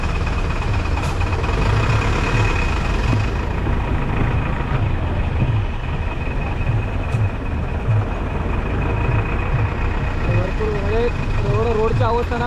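Heavy road traffic with trucks and buses on a highway past Pen, heard from inside a moving vehicle as a loud, continuous low engine rumble with a few horn honks near the end, under occasional talking.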